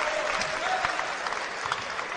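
Basketball crowd at a British Basketball League championship game cheering and applauding, a dense steady wash of clapping and voices heard from within the arena.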